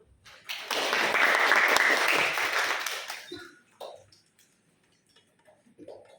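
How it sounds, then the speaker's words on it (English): An audience at a mental health seminar applauds its presenters in a dense burst of clapping that swells, holds for about two and a half seconds, then fades, leaving a few faint scattered sounds. "Please give an applause for them."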